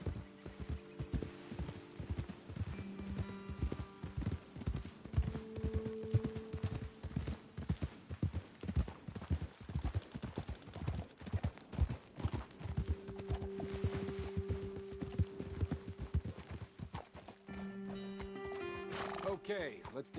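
Horse hooves clip-clop steadily in the game Red Dead Redemption 2 as riders move along a trail, with repeated close hoof beats, occasional whinnies and snorts, and game dialogue spoken over the riding.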